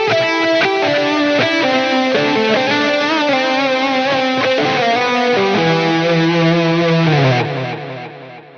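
Electric guitar through a Blackstar St James EL34 amp plugin with mild overdrive, delay, reverb and stereo phaser, playing a sustained, swirling melodic phrase with long delay trails that fade out at the end.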